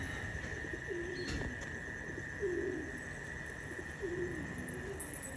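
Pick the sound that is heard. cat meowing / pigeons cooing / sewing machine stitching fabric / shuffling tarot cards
pigeons cooing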